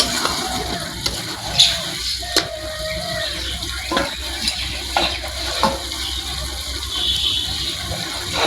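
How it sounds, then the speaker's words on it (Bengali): Fish is sautéed in masala in a home kitchen pan, giving a steady, soft sizzle and hiss. Scrapes and clinks from stirring break in irregularly over a faint background hum. "মাছটা খুব সুন্দর করে কষাই নিয়েছি"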